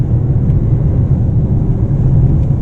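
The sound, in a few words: Mercedes-Benz S 580 engine running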